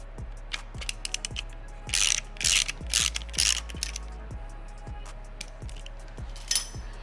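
A ratcheting Allen wrench loosens 4mm bolts on the rear diffuser of a 2020 Subaru WRX. It gives repeated quick metallic clicks in steady rhythm, broken by a few louder clanks and scrapes of metal, close up.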